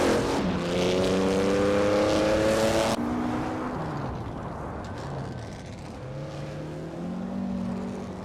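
Race cars in a racing video game roar past with steady, loud engine drones and shifting pitch as several cars overtake one another, the engine tones rising and falling continuously.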